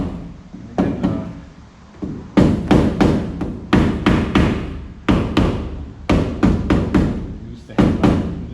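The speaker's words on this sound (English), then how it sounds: "use the hammer just to really drive it into the bottom of the channel." A hammer strikes repeatedly in short bursts of sharp, loud thuds and taps, close up, driving finishing tape into a channel on a Piper Pacer fuselage, with brief pauses between groups of blows.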